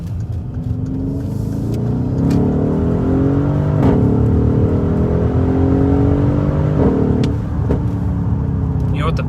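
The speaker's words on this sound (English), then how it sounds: "just the sound of this engine is unreal. The downshifts," A Mercedes-AMG GLE63 S engine revs and pulls hard, with rising and falling gear tones, downshifts and exhaust burbles, loud and steady from inside the moving car; a voice talks over it.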